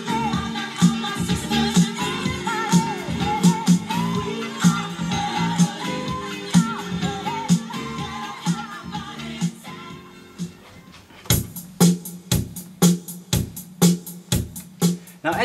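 On digital turntables, one song plays loud and busy with a pounding beat, then fades into a near-silent gap before the next song starts abruptly with sharp, punchy hits, giving an awkward start-stop transition with no mixing.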